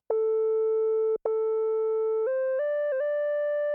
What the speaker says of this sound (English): Here we have more of a sine wave, which is gonna sound more like a flute.